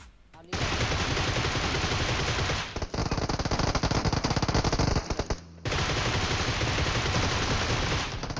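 Automatic gunfire in PUBG Mobile rattles out in loud sustained bursts, with short pauses splitting the firing into three long runs of rapid shots.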